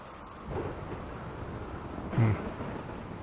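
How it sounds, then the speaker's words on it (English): Video game thunderstorm with rain in Rimworld: a steady rain wash broken by two rumbling thunder swells, the second louder and closer, with no talking. "A rainy thunderstorm."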